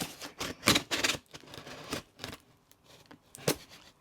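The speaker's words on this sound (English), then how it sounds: "We'll get some scissors." Scissors snip and tear open a stethoscope package, a quiet series of crisp cuts and crinkling plastic in uneven bursts, close by and with no talk.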